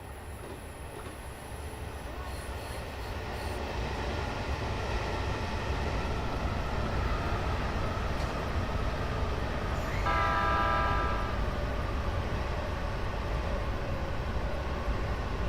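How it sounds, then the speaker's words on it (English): A train rumbles past in the Train Simulator Classic video game, a steady low roar of wheels on rails that swells and holds, with a brief tonal squeal partway through. "Oop, I hear a train."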